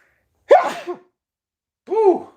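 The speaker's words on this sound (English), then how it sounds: "I have to sneeze." A single sharp human sneeze, then after a short pause a second breathy burst that sounds like a follow-up sneeze or exhale, both close and loud in an otherwise quiet room.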